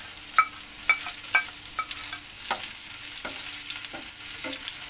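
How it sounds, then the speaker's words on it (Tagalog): Garlic and onion sauté in cooking oil in a pan on a stove for ampalaya (bitter gourd) with eggs: a steady close sizzle broken by a series of sharp utensil clinks and scrapes as the pan is stirred. "igisa lang natin ng kaunti."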